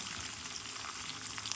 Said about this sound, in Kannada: ಒಣ ಮೆಣಸಿನ್ಕಾಯಿ ಒಗ್ಗರಣೆಗಂತ ಹಾಕೋದು.